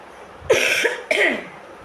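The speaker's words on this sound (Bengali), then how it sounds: "অতিরিক্ত কথা বলতে গেলেই কাশি উঠে আসছে" Two sharp, close coughs about half a second apart from a lingering cough, each a harsh burst followed by a short rasping tail, in an otherwise quiet room.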